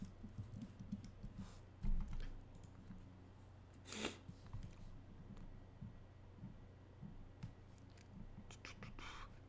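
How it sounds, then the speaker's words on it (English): Quiet tapping on a computer keyboard, a scattering of soft clicks spread across the stretch, faint and close, with low whispered speech and small handling noises around it. "Like if we type in Kuminga"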